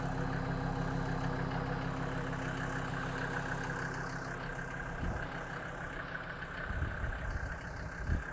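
A 1995 Mercedes G-Class 290GD two-door short-wheelbase with a 2.9 liter five-cylinder mechanical turbo diesel idles steadily, a continuous low rumbling drone at close range with slight rises near the end and no talking.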